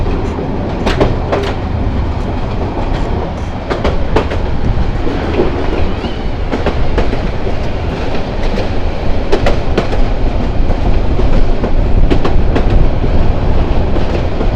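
The Haor Express, a Bangladeshi passenger train on the Mohanganj to Dhaka run, rolls along the rails with a steady heavy rumble. Sharp wheel clicks repeat over the whole stretch. No one speaks.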